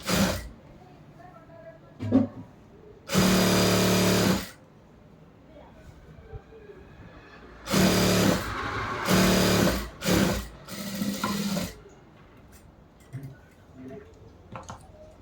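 A sewing machine stitches a churidar top in several bursts, a few short and others lasting over a second, with quiet handling and clicks between them and occasional soft voice.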